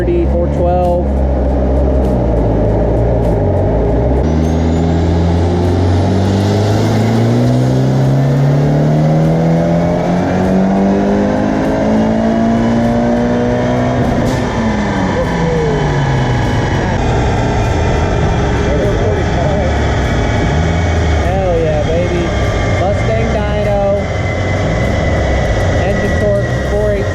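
Mitsubishi Evo 9 on a dyno in fourth gear, engine revving hard with rising turbo spool whine climbing in pitch, then falling off after the pull; loud and close with speech over it.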